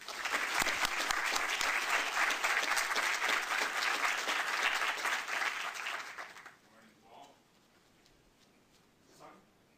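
Loud, sustained applause from a large audience welcoming a speaker to the stage, steady for about six seconds before fading to scattered claps and quiet room noise.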